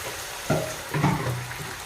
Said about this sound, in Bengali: কাঁঠালটা কিছুক্ষণ ভাজার পরে এখন এখানে জল অ্যাড করা হবে